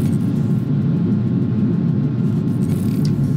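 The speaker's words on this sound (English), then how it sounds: "the next thing you'll see us do there in the flight deck is to lower the landing gear" Jet airliner cockpit on final approach as the landing gear is lowered, a loud, steady low rumble and whir that holds throughout with no talk.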